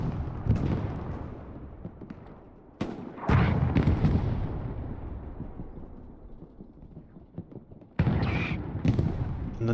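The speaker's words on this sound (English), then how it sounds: "Artillery is landing." Artillery shells land during a Hell Let Loose battle at Carentan: three heavy booms, two close together and one later, each followed by a long rumbling decay under distant gunfire.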